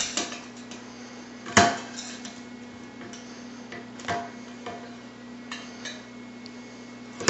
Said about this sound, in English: Butter knife.